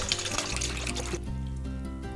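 Water pours from a bottle into a bowl in a steady, close trickle with a gurgling splash, continuous throughout and no voices over it.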